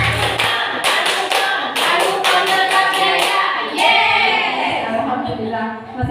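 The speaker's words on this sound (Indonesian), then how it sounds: "Mari kita bersama-sama untuk melaksanakan tepuk Al-Furqon tersebut." A group performs the Tepuk Al-Furqon clapping chant, sharp rhythmic hand claps in patterned bursts mixed with chanted voices, loud and close, ending in sung chanting.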